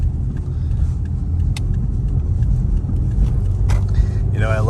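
A 2006 Toyota RAV4 with a 3.5L engine runs at a steady low idle, a continuous rumble heard close by, with a few brief clicks and a short voice near the end.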